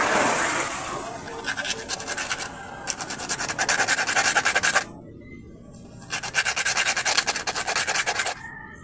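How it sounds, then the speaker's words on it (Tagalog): Sandpaper rubs back and forth along the edge of a carburetor part in rapid raspy strokes, two long bursts separated by a short pause, recorded close up. "Kuha tayo ng liha. Ito. Itong liha natin. Lihain natin na ang gilid, yung gilid."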